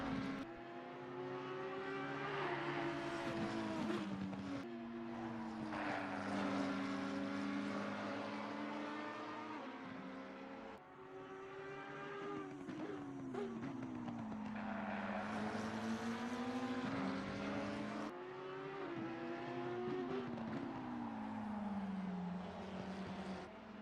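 GT3 race cars, an Audi and a McLaren, in a sim racing game, engines droning loudly and continuously with rising and falling pitch through gear changes and corners, close and steady throughout.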